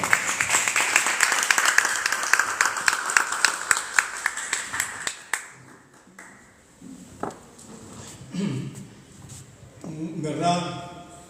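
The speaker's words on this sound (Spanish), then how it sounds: "Fuertes palmas para el expositor." An audience claps for an economist and planner presenting as a pre-candidate for the Peruvian presidency; dense, loud applause fills the first five seconds and then fades, giving way to someone speaking.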